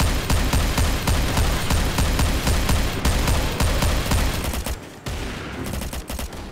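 Shotgun gunfire in the video game Garry's Mod during a boss battle, a dense barrage of rapid loud blasts firing almost continuously before a brief lull and more shots.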